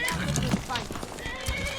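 Horse in the video game Skyrim, clip-clopping hooves and a neigh close by, with someone talking over the game sounds.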